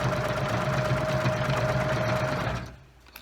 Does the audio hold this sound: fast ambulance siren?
no